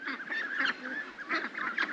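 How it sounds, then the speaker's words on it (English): A red-faced duck, likely a Muscovy, calls on a farm among chickens and pigs, giving repeated raspy honking calls in two bursts across two seconds, fairly close, with no talk. "The old red-faced duck."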